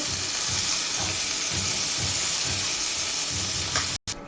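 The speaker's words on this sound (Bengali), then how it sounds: "আমার মাছ ভাজা হয়ে গেছে" Pomfret fish frying in hot oil for a spicy fish bhuna, giving a steady, close sizzle with soft rhythmic crackle throughout, ending in a brief dropout.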